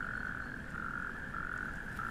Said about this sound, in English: A couple of natterjack toads.